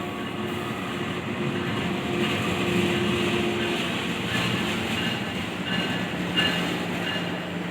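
Jenggala passenger train with K3 economy coaches hauled by a CC206 locomotive rolling along the tracks, a steady rumble with rhythmic clacking of wheels and occasional metallic squeals, fairly close.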